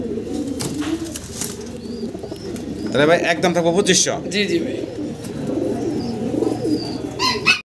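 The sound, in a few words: pigeons cooing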